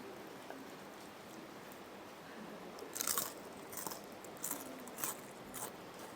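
Crunchy deep-fried tea leaves bitten and chewed outdoors on a tent camping trip at Kew Hai, Chiang Mai, a few close crisp bites and crunches in a quiet setting with no talk.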